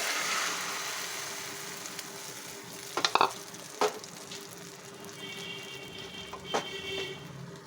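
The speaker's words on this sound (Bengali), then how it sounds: "এবার ডিমটা ঢেলে দিচ্ছি" Beaten egg poured into a hot pan for a pumpkin-flower egg dish, frying with a steady close sizzle, punctuated by a few sharp clicks and scrapes of stirring.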